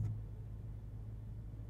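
A Ford F-150 Raptor R truck engine started in quiet mode gives a low, steady, subdued rumble with a faint higher onset at the start, heard alone.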